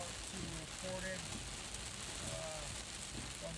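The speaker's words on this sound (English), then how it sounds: "We're getting pounded with rain right now" Heavy thunderstorm rain pours steadily in Portage, Michigan, a dense unbroken hiss of drops on surfaces with faint low sounds mixed in underneath.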